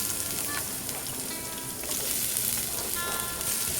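Chopped garlic sautés in a pan for Kerala beef fry, a close, continuous crackling sizzle with light stirring scrapes throughout.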